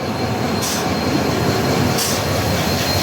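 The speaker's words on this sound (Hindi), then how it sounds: "कोई तो इंजन है ये, बहुत ज़्यादा ही ज़बरदस्त लग रहा है कहीं से" Kolkata to Agra Cantt superfast express train 13167 rumbling steadily along the rails near Raebareli Junction, a loud continuous roar with two brief bursts of hissing wheel squeal.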